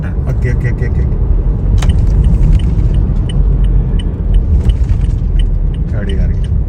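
A motor vehicle approaches along a road by the Amritsar–Jamnagar Expressway in India, a loud, close, continuous engine and tire rumble with scattered clinks and rattles, while people talk over it.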